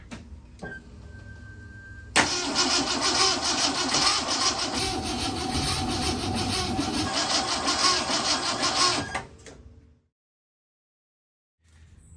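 A 1968 Mustang's engine is cranked on a start attempt. The starter grinds loudly and continuously for about seven seconds and then cuts off into silence, with a faint sound afterward.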